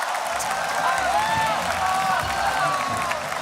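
Crowd at a Hearthstone championship match, the 2019 HCT World Championship quarterfinals, cheering and applauding in a steady roar with shouted whoops rising above it, under a commentator's voice.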